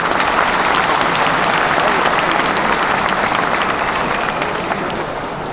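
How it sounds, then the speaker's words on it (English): A large audience at an Eid event at the Metro Toronto Convention Centre claps loudly and continuously, a dense wash of applause that tapers slightly toward the end. "Please give her a warm round of applause."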